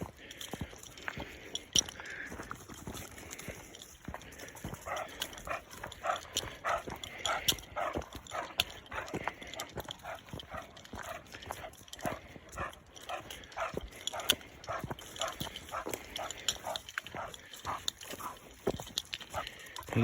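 Two dogs play in Wells Hills Park in Fayetteville, Tennessee, a passive older male and a female who corrects him, with scattered scuffles, soft growls and yips over faint outdoor background.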